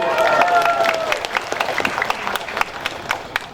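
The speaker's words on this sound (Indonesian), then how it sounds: "Kasih tepuk tangan sekolah tunduk." Audience clapping fills a mosque during a Maulid Nabi sermon, a dense burst of hand claps with a voice briefly audible at the start before the applause carries on steadily.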